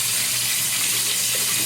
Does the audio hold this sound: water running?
yes